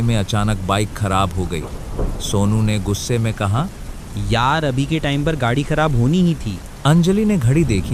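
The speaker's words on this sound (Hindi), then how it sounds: "बारिश की बूंदें तेजी से गिर रही थीं" Heavy rain falls with thunder on a dark rural road at night, a constant hiss with low rumbles lying beneath continuous spoken narration.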